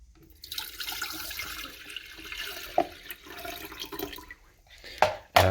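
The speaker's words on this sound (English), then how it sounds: "I'm going to pour the water into the kettle" Water pours from a tap or jug into a kettle with a steady, moderately faint splashing rush that shifts in pitch as it fills, with a few clunks near the end and no talking.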